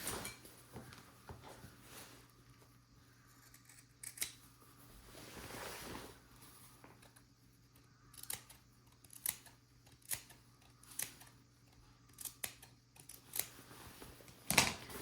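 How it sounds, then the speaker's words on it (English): Scissors trimming raincoat fabric at a corner, a series of quiet, close snips in an uneven rhythm in a hushed room. "And then I'm going to cut off just right at the corner. I'm going to trim this."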